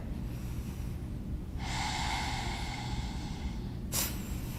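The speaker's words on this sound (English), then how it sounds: "Nice and deeply. 3 deep Ujjayi breaths." One deep Ujjayi yoga breath, a long steady hissing draw of air through a narrowed throat, close and clear over low background hum, ending with a brief sharper burst.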